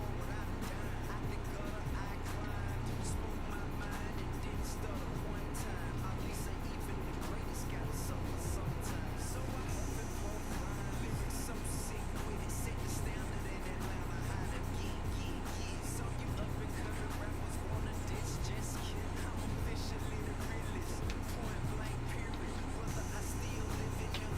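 Steady droning engine roar from opponents' race cars in the Assetto Corsa racing game, BMW-only field, a constant loud mechanical hum filling the whole stretch, with a voice talking faintly over it.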